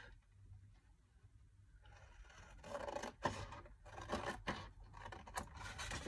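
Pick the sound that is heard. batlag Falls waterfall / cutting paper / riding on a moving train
cutting paper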